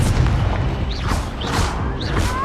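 Confringo fire-blast spells in Hogwarts Legacy, three booming bursts in quick succession with whooshing, swirling magic effects in between, loud and close.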